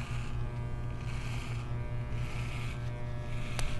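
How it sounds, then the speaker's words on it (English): Adjustable electric hair clipper with a 1.5 guard cutting curly hair during a temple fade, a steady close-up buzz running throughout with slight changes in pitch as it passes through the hair. "I'm going to place that on the clipper, on my adjustable clipper, and open it all the way"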